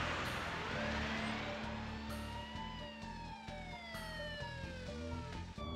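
An ambulance siren wails during a car chase, loud and close, with repeated falling tones sweeping over a rumbling engine. A steady low pulsing runs underneath throughout.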